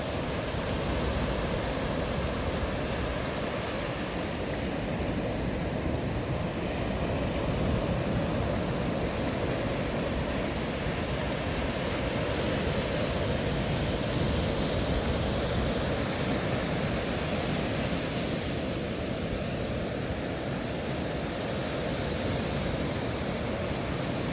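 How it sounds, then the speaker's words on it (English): Ocean surf on Vilano Beach, Florida, rolls in as a steady, dense wash of broadband noise that holds loud and unbroken throughout, with no voices over it. "Just get some of these waves."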